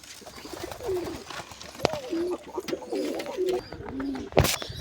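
Pigeons, a nesting pair with chicks, coo in a series of soft, rolling, throaty calls at close range, with a few faint chirps and a sharp tap mixed in.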